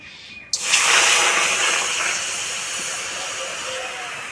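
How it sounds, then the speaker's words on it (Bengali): Water poured into a hot, freshly cleaned kadai bursts into a sudden loud steaming hiss, then settles into a softer, fading sizzle. "কড়াই পরিষ্কার করে নিয়েছি কড়াই এবার একটু জল দেব"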